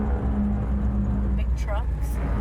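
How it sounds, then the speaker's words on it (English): Big trucks passing on a road, a continuous heavy low rumble of traffic with a few brief higher squeaks. "Big trucks."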